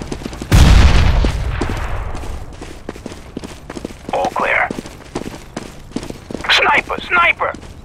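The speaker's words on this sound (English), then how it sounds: "I'm throwing a grenade." A grenade blast in Counter-Strike: a loud broadband boom near the start that fades into a long rumble, followed by scattered gunfire cracks and bursts of speech.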